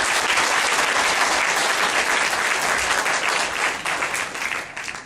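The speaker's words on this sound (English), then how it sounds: "Another round of applause for everyone." Audience at a university book launch bursts into sustained, loud applause, a dense wash of many hands clapping that holds steady for several seconds and thins slightly near the end.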